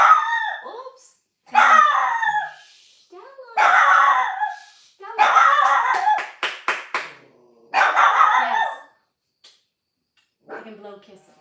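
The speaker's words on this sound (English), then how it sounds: "I'm gonna get silly, so she stops barking." A pet dog barks in repeated bursts indoors, loud and close, with yips and howl-like tones mixed among the barks and short gaps of quiet between them.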